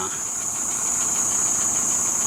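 A 2018 BS4 14-wheel 3718 lorry idles close by at a Tiruchengode lorry dealer, a steady, even engine drone with a faint high whine above it and some background voice.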